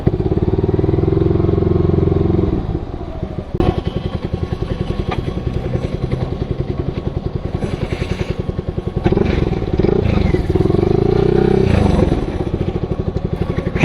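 A Yamaha R15 v3 motorcycle on a solo ride runs with a loud, close, buzzing engine throughout. The engine note swells and drops with throttle changes, over steady road and wind rumble.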